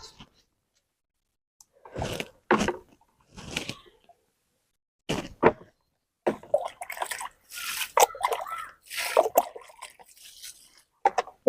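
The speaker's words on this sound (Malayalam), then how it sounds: "അപ്പൊ നമുക്ക് കുറച്ചിന് വെള്ളം ഒഴിച്ചു കൊടുക്കാം" Water poured in short, irregular splashes onto the soil of a newly planted Red Lady papaya sapling, close by, with brief pauses between pours and no talking.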